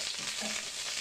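Garlic and curry leaves fry in hot oil for an achari chicken tempering, giving a steady, quiet hiss and crackle with no voices.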